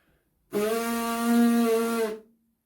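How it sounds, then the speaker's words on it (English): A single sustained buzzing tone from a trombone player's vibrating lips, steady and harmonic-rich, lasting about a second and a half, close up, alone against silence. "sound is produced with the vibrating of the lips"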